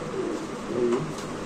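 Pigeons offered for sale coo softly at close range, a few low throaty warbles over a quiet background.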